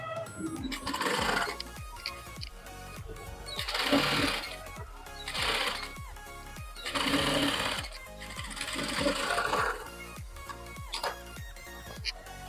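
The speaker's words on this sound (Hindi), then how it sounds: "यहाँ से हमें सिलाई लगानी है" A sewing machine stitches a hook strip on a sleeveless princess-cut padded blouse, in repeated short bursts of rapid needle chatter separated by brief pauses, loud and close.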